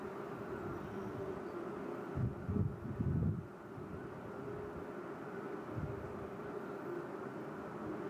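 Checkmate jet team aircraft passing in trail formation in front of the crowd at the 2022 Selfridge air show, a steady distant roar under wind noise that swells briefly as the jets go by.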